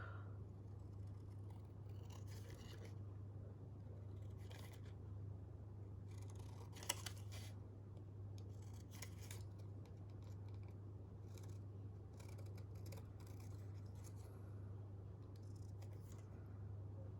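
Scissors cutting out a paper label, a quiet series of short snips and crisp scrapes in bursts over a steady low hum.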